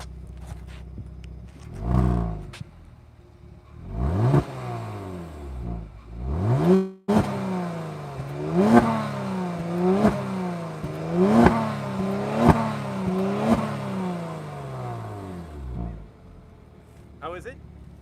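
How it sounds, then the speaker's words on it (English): A 2022 Genesis G70 3.3T Sport RWD in Sport Plus mode blips its engine through a series of about six quick rising-and-falling revs, loud and close, with people talking faintly around it. "We'll give you a couple of revs."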